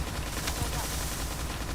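Rapid gunfire from a moving turret in a video game, a dense sustained burst of shots with game noise filling the background.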